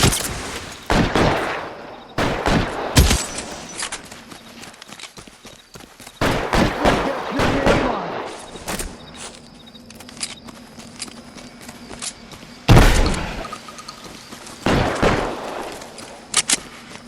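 Gunfire crackles in the L.A. Noire video game, with repeated sharp shots in bursts and single cracks scattered throughout, loud and close, some rapid volleys, between quieter gaps.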